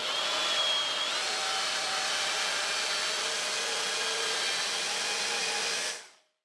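A small tilted chainsaw-style cutting attachment whines steadily and loudly as it cuts a 2 mm wide, 5 mm deep groove, holding one continuous tone for about six seconds before stopping abruptly.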